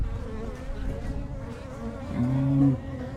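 Honey bees buzz steadily around an open hive during an inspection of the old brood nest after requeening, a dense continuous hum that swells louder near the end as bees fly close.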